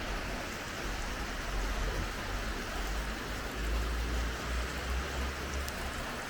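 Heavy rain pours on an Abidjan street in the Anador neighbourhood on a Sunday morning, a steady, dense hiss of falling water with no voices.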